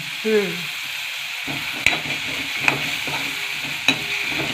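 Vegetables for a Marathi-style ghaypat (agave) bhaji stir-frying in hot oil, a steady close sizzle with occasional sharp clicks of a spoon against the pan and a brief voice at the start.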